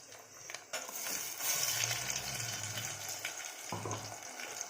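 Egg masala curry frying in a pan with tomato puree, a steady continuous sizzle with some stirring scrapes, moderately close and without talk.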